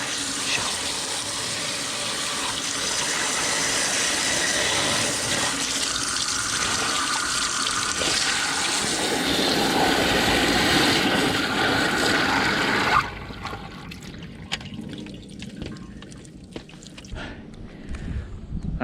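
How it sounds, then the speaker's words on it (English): Water from a garden hose gushes steadily over freshly dug potatoes at an allotment, washing off residual soil in a loud continuous spray that cuts to a quieter trickle near the end. "to make sure that the residual soil is being washed off the potato"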